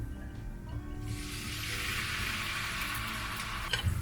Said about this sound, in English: Once the cumin seed is starting spluttering, we will add the onion